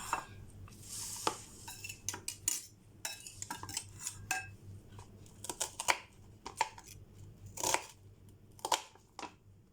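An onion being sliced lengthwise with a knife on a board, heard as a brisk, irregular run of close, sharp cuts and light clicks with short pauses between strokes.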